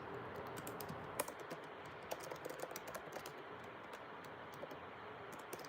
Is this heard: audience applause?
no